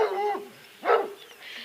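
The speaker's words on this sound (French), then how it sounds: "nous avons donc 2 chiens de chasse" Hunting dogs, two females, bark inside their enclosure on a farm with hens, ducks and rabbits, giving a couple of short, fairly close bark bursts with a quieter gap between them.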